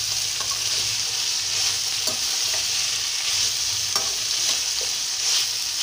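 Broad beans (chikkudukaya) fry in a pan with a steady, loud hiss, broken by scraping from a spatula turning them over now and then.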